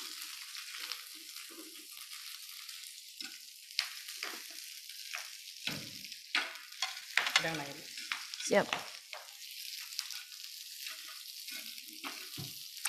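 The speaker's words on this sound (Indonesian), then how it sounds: "Ini kita masak pakcoy dari mentah ya." Raw pak choy frying and being stirred in a hot pan, a close crackling sizzle with repeated scraping strokes and irregular spatters, one brief spoken word partway through.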